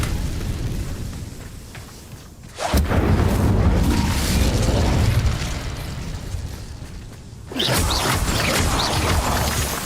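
Incendio fire spell cast in Hogwarts Legacy, a sudden whooshing burst of flame that roars loudly for several seconds, eases off, then erupts again with a second sharp blast.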